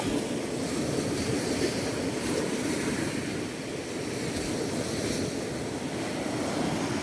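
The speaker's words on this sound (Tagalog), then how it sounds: "Grabe, lakas lang ang alon dito" Strong ocean waves surge and wash continuously at Laki Beach in Mariveles, Bataan, a loud, broad roar of surf with no talking.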